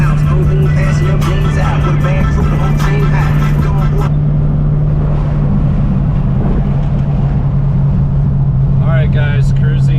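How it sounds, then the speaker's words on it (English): A 1991 DECH Coupe driving on the road in Texas, a constant loud engine drone and road rumble heard from inside, with voices talking over it at times. "cruising the 1991 DECH Coupe, and was just coming back from Salado, Texas"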